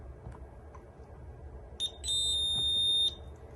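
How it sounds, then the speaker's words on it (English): Alarm system keypad door chime: a few soft low taps, then three quick electronic beeps blending into a sustained high-pitched tone lasting about a second, loud and close with no talk. "I'm going to close it, and still you have those 3 beeps."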